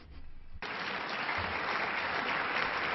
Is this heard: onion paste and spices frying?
no